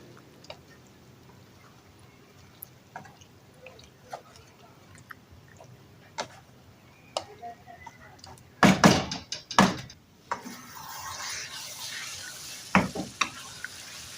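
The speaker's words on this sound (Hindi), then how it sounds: "3 से 4 मिनट तक इसको भुनाई करेंगे। चम्मच इसमें चलाते रहेंगे।" Spices fry in a pot for chicken aloo biryani while a spoon stirs them, giving a quiet sizzle with scattered scraping clicks and a few louder clattering bursts of stirring, with no talk.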